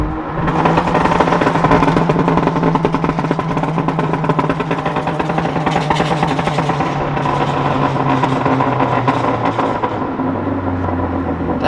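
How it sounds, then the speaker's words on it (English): A 2017+ Honda Civic Si with a catless downpipe drops from third to second gear, its engine revving loud and raspy with a steady droning roar that shifts pitch near the end, with no talking over it. "Now I'm gonna downshift from third to second."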